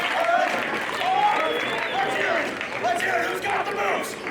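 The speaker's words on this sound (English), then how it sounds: "Definitely getting some rhythm backing here by the crowd." A wrestling crowd claps steadily in rhythm along with a dance in the ring. The clapping is mixed with crowd noise and lasts throughout.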